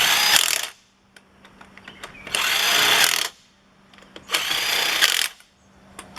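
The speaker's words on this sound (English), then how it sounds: "I do cheat by using an impact wrench" Impact wrench spinning on trailer wheel nuts during wheel bearing work, three loud buzzing bursts of about a second each separated by brief pauses, close up.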